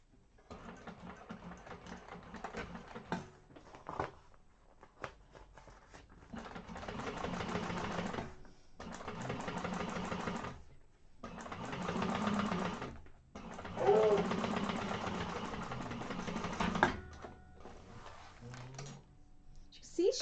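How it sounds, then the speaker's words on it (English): A sewing machine top stitches through the bottom panel of a handmade bag, running in several bursts of steady rapid stitching separated by short pauses, loud and close. "Make sure that that seam is going towards that bottom panel and top stitch through the bottom."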